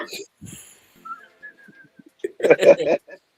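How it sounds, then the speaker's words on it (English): A person whistles a short rising and falling tune, with bits of talk around it and a burst of voices near the end. "and the whistle."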